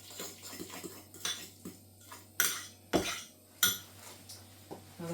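Smashed avocado being mixed with salt in a bowl, with a utensil clinking and scraping against the bowl in several separate sharp taps, close and fairly loud with quiet gaps between them and no talking.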